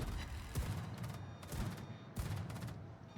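Anti-aircraft guns aboard a U.S. Tier 9 premium warship in World of Warships fire at aircraft in heavy rolling volleys, several distinct bursts booming over a constant roar of naval combat.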